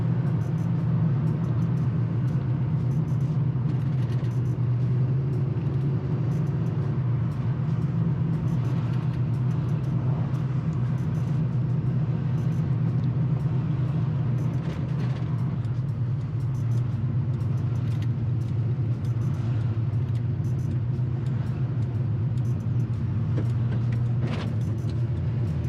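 A 1986 Chevy K10 truck engine rumbles steadily while driving with the secondaries open, a loud continuous low drone that holds with little change throughout, no voices.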